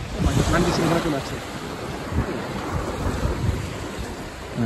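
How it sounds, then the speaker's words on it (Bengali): Sea waves breaking on the shore near the Straits of Malacca mosque in Malacca, a loud continuous rumble of surf mixed with gusty wind buffeting the microphone. "ঢেউ কমে গেছে।"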